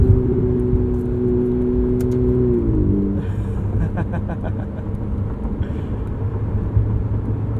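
2016 Ferrari 488 GTB with a twin-turbo V8 driving: a steady engine drone with clear harmonic tones that hold, then drop in pitch as the car shifts, followed by a rougher cabin rumble.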